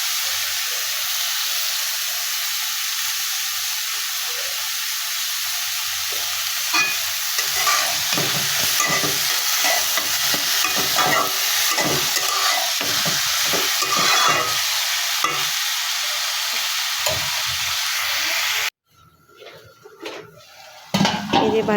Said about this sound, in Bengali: শুকনো মরিচের ফোড়ন দিয়ে ভাজিটা বসাই দিচ্ছি।